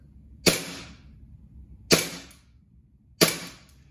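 An RWA NightHawk Custom gas blowback airsoft pistol fires three sharp, crisp shots about a second and a half apart, each with a quick snapping report and short decay in a quiet room.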